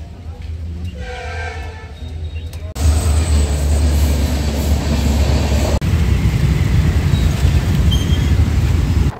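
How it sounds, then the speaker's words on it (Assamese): A train passes a level crossing near Uriamghat in Golaghat. A horn sounds first, then a loud, close, rumbling roar of the rail cars rolls steadily past for several seconds. "জামত ফচি আছো গাইজ ট্ৰেইন আহিব"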